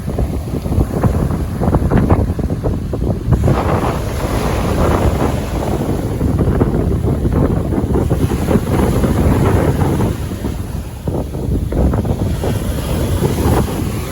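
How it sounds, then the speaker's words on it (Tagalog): Heavy waves at high tide during a typhoon in Romblon, Philippines roar and crash continuously under strong wind buffeting the microphone, loud and close, with no pauses. "Kaya lalaki pa ang alon."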